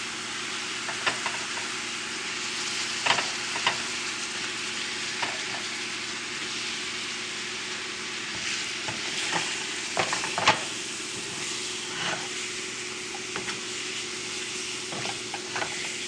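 Shrimp fry with garlic and oil in a pan, a continuous close sizzle dotted with small pops and light utensil knocks throughout.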